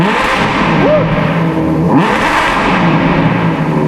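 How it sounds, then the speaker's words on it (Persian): A sports car's exhaust revs hard and continuously, a loud, throaty engine roar rising and falling without pause. "همین که صدا اگزوزش خیلی باحاله"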